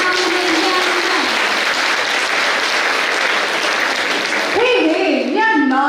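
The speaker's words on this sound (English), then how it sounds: "huge round of applause for this phenomenal young man" Crowd at a school Navaratri event applauds loudly and continuously, a thick wash of clapping, and near the end a voice rises over it on the microphone.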